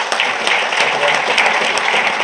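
An audience at a panel discussion with international speakers applauds, a dense, even burst of many hands clapping that fills the room for a couple of seconds.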